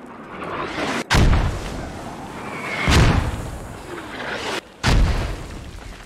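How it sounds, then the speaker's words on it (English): Mortar shells land and explode in a military shooter game, three heavy booming blasts spaced a couple of seconds apart, each with a long rumbling tail, loud and fairly close over a constant battlefield din. "Mortars go landing."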